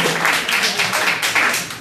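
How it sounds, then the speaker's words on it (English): A live audience at an AS220 Empire Revue variety show claps and cheers together, a dense, steady roar of applause that fills the whole stretch without any speech over it. "That's worth a round of applause."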